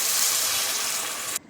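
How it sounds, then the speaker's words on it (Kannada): About a glass of water splashes into a pan of vegetables being cooked for Maggi masala, a steady close rushing pour that cuts off abruptly at the end. "ಇಲ್ಲಿ ತರಕಾರಿ ಎಲ್ಲ ಬೇಯಲಿಕ್ಕೆ 1 ಲೋಟ ಹಾಕುವಷ್ಟು ನೀರು ಹಾಕ್ಕೊಳ್ತಿದ್ದೀನಿ"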